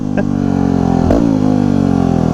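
A supermoto motorcycle accelerates hard in second gear for a wheelie, its loud close engine droning steadily, with a brief blip and change in pitch midway.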